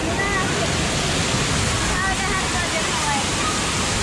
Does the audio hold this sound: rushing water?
yes